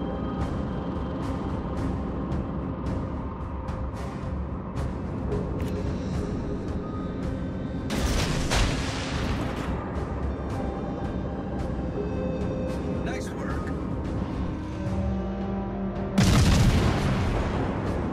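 Naval gunfire from warships in World of Warships: Legends, with deep booming salvos rolling over a steady engine and sea rumble, including two louder broadband blasts partway through and near the end.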